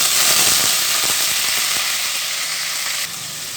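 Ginger-garlic paste fries in hot oil for a Hyderabadi kofta gravy, a loud, steady broadband sizzle that fills the whole clip with small crackling pops and eases slightly near the end.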